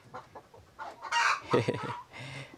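Hens in a newly settled farm flock in Cebu cluck and squawk up close in short uneven bursts, one call rising louder in the middle, with faint voices in the background.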